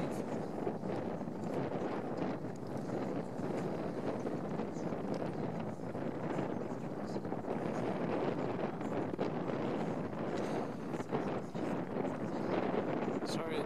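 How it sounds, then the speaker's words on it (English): Strong wind buffets the microphone at Stonehenge, a steady loud roar and rumble filling the whole stretch with constant gusty rushing. "So windy."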